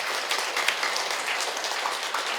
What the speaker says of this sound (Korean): 열정을 가지시고 명강의를 해주신 우리 김두리 교수님께 다시 한번 뜨거운 박수 부탁드리겠습니다